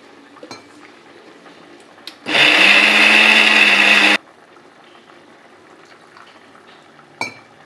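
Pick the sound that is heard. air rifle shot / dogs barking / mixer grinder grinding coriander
mixer grinder grinding coriander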